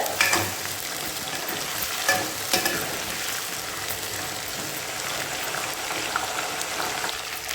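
Ingredients for kara kuzhambu frying and being stirred in hot oil, a steady close sizzle with the occasional scrape of a spoon, continuous for several seconds with no talk.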